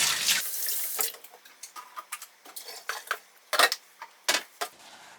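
Running tap water splashes into a pot caked with oatmeal, with scraping and metallic clinks and clacks of scrubbing in short bursts, close and alone.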